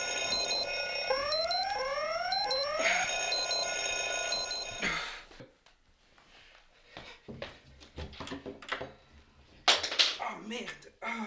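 An electronic alarm clock rings loudly with repeating beeping bursts for about five seconds, then cuts off, leaving quieter rustling and movement with voices talking.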